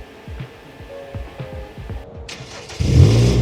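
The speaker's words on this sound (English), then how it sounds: "And here you go, the car is running." A 2011–2015 Kia Optima is remote-started: the starter cranks in a quick series of rhythmic pulses for about two seconds, then the engine catches and settles into a louder, steady idle hum, close by with no talking.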